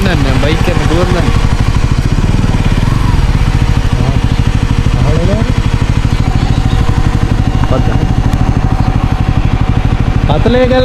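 A motorcycle runs along a country road on the way to Bathalegala rock, its engine thrumming loud and close without a break, with someone speaking over the steady drone.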